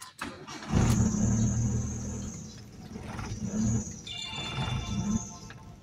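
A Mitsubishi Lancer Cedia that has been stalling at idle is started again. The starter turns briefly, the engine fires and runs at a close, steady idle, and it revs slightly once or twice.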